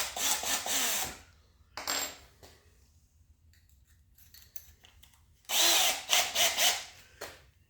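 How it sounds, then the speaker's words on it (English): A power drill boring a hole in the hinge area of a Norcold 1200 RV fridge, three loud whining bursts close up, separated by quiet pauses with light handling clicks. "And I'm going to drill the hole."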